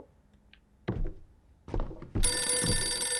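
A telephone rings in the horror game Visage, starting near the end as a loud, steady bright ring that follows a few dull thumps and knocks.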